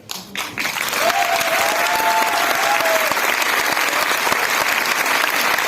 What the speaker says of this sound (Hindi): क्या आज तक की सबसे अच्छी तालियां हैं आपकी?